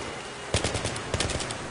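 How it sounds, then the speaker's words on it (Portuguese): Battlefield 3 gunfire, a rapid automatic burst of roughly ten close, loud shots in two quick clusters over a steady rumble. "Tem alguém atirando em mim"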